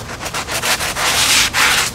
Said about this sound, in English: You don't want to sand the wing flat.